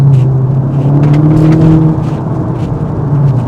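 A modded 2018 Volkswagen Golf 7.5 GTI idles and revs loudly up close, its engine and exhaust giving a strong droning hum that rises in pitch, then falls and settles, with no talking.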